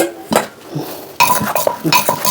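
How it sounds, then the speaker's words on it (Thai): Shrimp being pounded in a mortar for Isaan jaew dip, heard as a few loud, close, hard knocks and clattering strikes in irregular bursts, with no talk. "เขาเอากุ้งลงไปตำเลยพี่น้องจ้า"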